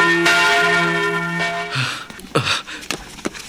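A church bell rings with a sustained, resonant tone that hangs for almost two seconds, then gives way to scattered shuffling and thumping noises in an eerie, quiet setting.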